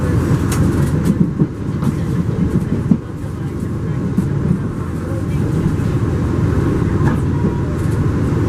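A train pulling into a station in Japan rumbles steadily with a broad, constant roar and occasional metallic clicks and squeals, sounding close and continuous.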